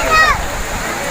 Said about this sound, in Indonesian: Tinggi air terjun tertinggi di Indonesia.